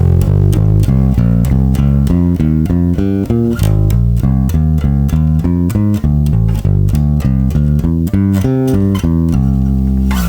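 A steady walking bass line on bass guitar, evenly plucked notes moving step by step between root and fifth at a brisk tempo under a loud, full band accompaniment.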